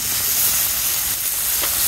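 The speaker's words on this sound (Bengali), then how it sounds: "আমার তেল গরম হয়ে গেছে একটু পেঁয়াজ দিয়ে দিলাম" Onions frying in hot oil, giving a steady, loud, broadband sizzle that stays unbroken throughout, with no voices.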